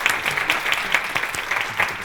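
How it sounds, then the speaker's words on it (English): An audience at a health care workforce summit panel applauding the panelists, a dense, steady clapping from a moderately sized crowd lasting about two seconds, fairly loud and without speech. "please join me in giving a round of applause to our panelists."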